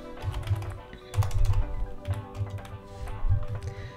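Fingers tap a computer keyboard in quick, uneven bursts of clicking keystrokes, close and moderately loud, with short pauses between runs.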